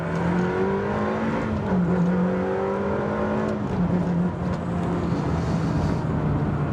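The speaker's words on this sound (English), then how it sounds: "So if you pull the paddle twice, it'll drop 2 gears," A Ferrari 360 with a paddle-shift gearbox revs hard close by, its engine note jumping in pitch as it drops gears, a sustained loud mechanical growl with no talk.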